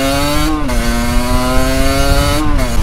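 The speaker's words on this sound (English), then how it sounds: "I did slip my clutch a little bit too quickly there. My bike sounded like it was gonna die" A motorcycle engine revs hard as the rider slips the clutch, a loud, close, continuous buzzing drone that rises and dips twice in pitch, with no talking.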